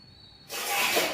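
A small mixer grinder jar grinding a packet of 96 snack starts abruptly after a faint hum, with a loud, steady whirring roar of blades pulverizing the snack, close up.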